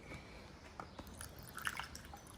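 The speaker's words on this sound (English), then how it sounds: "We're just got to put some coolant in the radiators." Coolant is poured into the radiator of a KTM 65 dirt bike during a top-end rebuild, a faint trickle with scattered soft drips and splashes.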